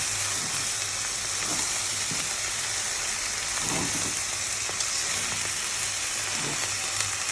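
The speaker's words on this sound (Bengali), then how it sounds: "যে আমি নাড়াই দিচ্ছি দেখেন নাড়াইতে নাড়াইতে শাকটা কমে যাচ্ছে" Leafy greens fry in a wok full of leaves, giving a steady loud sizzle with soft scraping stirs, close and continuous with no voices.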